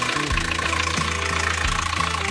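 A sailboat's inboard engine idles steadily after repairs with new injectors and a rebuilt fuel pump, a close, even low rumble with a regular knocking pulse and no talk.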